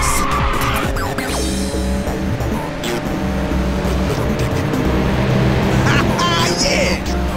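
Racing engines roar with tire squeal and skidding during a nitrous boost in Ridge Racer 6 on Xbox Series X, loud and continuous with whooshing bursts, while a voice talks over the action.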